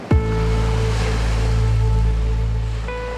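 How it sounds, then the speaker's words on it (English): Ocean waves wash steadily onto a Florida beach, a continuous broad surf rush heard up close, with a low hum and a faint tonal drone running underneath. "The subtle lullaby of waves, serenading our Florida beaches"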